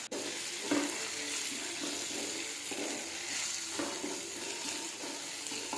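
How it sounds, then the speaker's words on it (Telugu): Curry leaves, ginger garlic and green chillies fry in a pan with a soft, continuous sizzle and occasional stirring scrapes, quiet and steady throughout. "కరివేపాకు బాగా వేయించుకోవాలి ఎర్రగా అయ్యే వరకు"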